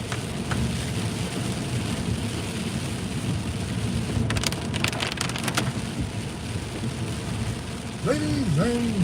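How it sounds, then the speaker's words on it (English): Steady rain hisses softly throughout, heard from inside a car, with a few brief crackles midway and a short warbling tone near the end. "Can you guys hear the rain as well?"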